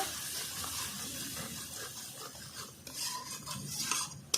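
Tomato paste from three large tomatoes is stirred and sautéed in a pan for a jackfruit curry, with steady scraping and stirring over a soft sizzle and a few louder clinks near the end.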